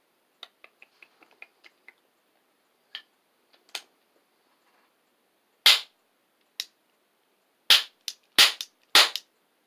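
Several sharp, loud cracks from a toy cap gun firing single caps cut from dollar-store plastic ring caps, following a run of faint clicks from loading and cocking, with the final shots coming in a quick, close cluster.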